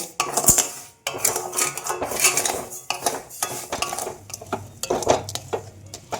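A utensil scrapes and clinks in bursts against a wok as sugar is stirred while it melts, irregular metallic scraping up close with no voices.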